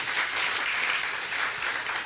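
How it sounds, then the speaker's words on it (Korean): A church congregation at a sermon claps in a dense, steady round of applause that fills the room for a couple of seconds. "하나님 전부님께 큰 박수를."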